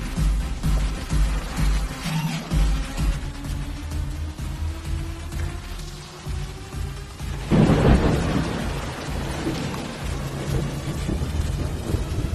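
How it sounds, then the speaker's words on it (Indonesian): Heavy rain falls steadily with low rolling thunder, and a louder crack of thunder breaks in partway through over the constant downpour, close and full, with no voices. "Hujan sih."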